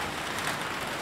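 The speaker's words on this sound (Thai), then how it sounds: "บรรยากาศฝนตก" Steady rain falls during a rainy spell with a power outage at a rustic home kitchen, a dense even hiss with no breaks across the short stretch, fairly close and alone without voices.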